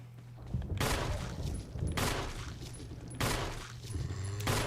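Four loud bursts of gunfire from the Resident Evil REmake video game, each a sharp blast with a ringing tail, spaced about a second apart over a low game ambience.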